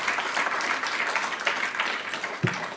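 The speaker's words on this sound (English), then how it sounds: "So let's give them a round of applause," A round of applause from the audience at a school board meeting honoring transportation department staff, steady clapping from a roomful of people with one sharper thump near the end.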